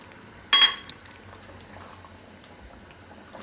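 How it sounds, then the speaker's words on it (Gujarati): Paan syrup simmering in a pan on the stove gives a soft, low, steady bubbling, with one sharp metallic clink near the start and quiet kitchen background. "તો થોડીક હજી પાતળી છે તો હજી 1-2 મિનિટ આપણે આને ઉકાળશું હજી."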